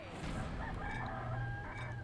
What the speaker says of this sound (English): And there's that annoying rooster again.